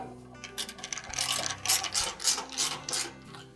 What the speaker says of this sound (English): we'll reinstall the other two screws on the front of the bulkhead